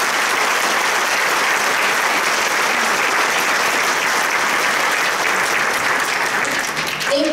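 Steady, dense applause from a school choir concert audience fills the hall for students, holding evenly throughout with a faint voice creeping in near the end.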